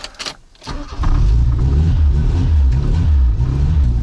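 A ZAZ Tavria car engine warming up idles steadily with a low, throbbing rumble after a brief start, close by and loud, running continuously without talk.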